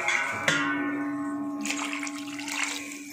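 Water poured into a pot of simmering prawn curry gives a brief splashing gush, then a second pour, close and moderately loud with a steady hum behind it.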